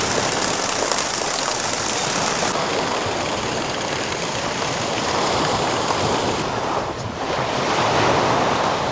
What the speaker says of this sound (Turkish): Gökçetepe Tabiat Parkı'nın en sonunda bu şekilde beyaz kum bir sahil mevcut.